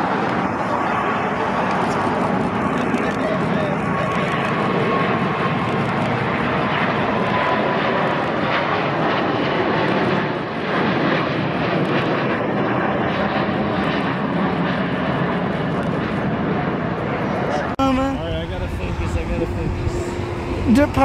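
A Cathay Pacific heavy jet airliner departing LAX on a flight to Hong Kong, a loud sustained roar of engines rolling on for about twenty seconds, with voices talking over it near the end.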